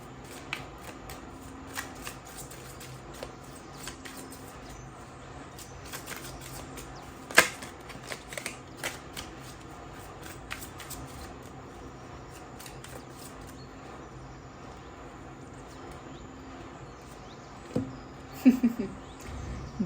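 Cards riffle and shuffle for a fortune reading, a soft, quiet run of papery flicks and taps throughout, with a sharper snap near the middle and a brief cluster of clicks toward the end.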